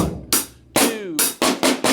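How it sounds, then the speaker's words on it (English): Snare drum pattern played slowly on a kit, about six crisp, resonant strikes at unhurried, slightly uneven spacing, close and clear with nothing else audible. "it's got a nice little pattern at the end with the snare drum."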